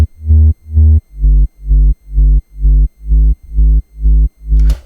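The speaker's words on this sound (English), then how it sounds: "you will probably hear the sub bass" A sub bass synth preset from Silent One plays ten evenly spaced, sustained low notes, each about a third of a second long with short gaps between them. It is loud and deep, sits alone with no talk, and a brief noisy burst comes at the very end.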